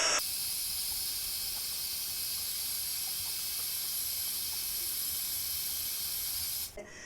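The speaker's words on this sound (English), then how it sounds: "I hold the gun in one position until I see the powder melting" A heat gun blows a steady, loud, even hiss at close range while melting embossing powder, running nearly unbroken before cutting off at the end.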